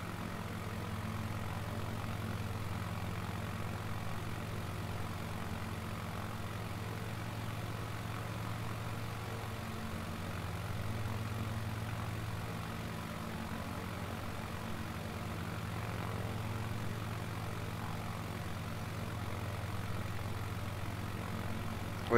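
Steady, droning aircraft engine noise with a constant low hum and propeller buzz, heard from inside the cabin during a flight along the Thames in London, unchanging and fairly loud.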